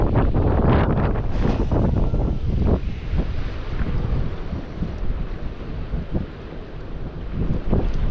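Strong wind gusting outdoors at a regional park while fishing for stocked trout on a winter day, loud buffeting rumble on the microphone with surging gusts and no speech.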